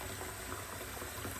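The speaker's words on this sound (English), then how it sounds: "I've been letting my water run for a while." Tap water running steadily indoors, a constant soft hiss of flowing liquid without a break.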